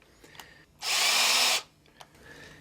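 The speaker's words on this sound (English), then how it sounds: "I'm taking a special type of a bit. That's called a Forstner bit. It's made to drill a nice round flat-bottomed hole" A loud, steady whine of a power drill boring a round flat-bottomed hole with a Forstner bit for under a second, standing out against a quiet background with a few faint clicks around it.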